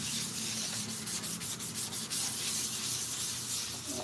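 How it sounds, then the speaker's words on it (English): Hand sanding a 3D-printed Iron Man neck piece in small circles, a close, steady scratchy rubbing that rises and falls in rhythmic strokes, with no talking. "Just nice smooth sanding in circles."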